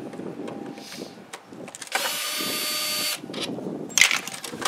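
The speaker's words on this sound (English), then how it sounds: "So you pull those out with your handy dandy drill." A cordless drill backs screws out of the lid of a 9x9 plastic catch basin outdoors, giving one steady whir of about a second, with scattered clicks and handling knocks before and after.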